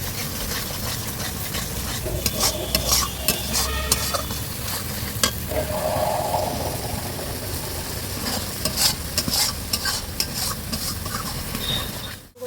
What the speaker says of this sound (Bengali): এবার সরষেটাকে ভালো করে কষিয়ে নেব